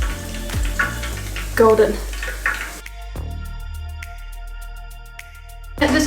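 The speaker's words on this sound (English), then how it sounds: "And this oil is just popping everywhere." Pieces of squid for salt and pepper squid frying in hot oil, a dense crackling sizzle with scattered pops under a voice in the first half, then fading beneath a quieter tonal background.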